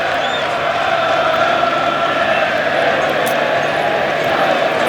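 A packed crowd at an England v South Africa Test match cheers and applauds loudly and steadily after Stuart Broad whips them up, a dense, continuous roar of noise.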